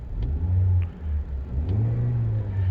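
Engine of a 2022 Toyota Corolla XSE manual hatchback revving while the car is held stationary, a low droning rumble that rises and dips in a few uneven surges, close and steady throughout.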